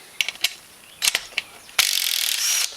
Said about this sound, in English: First thing you need to do is take this 12mm bolt out.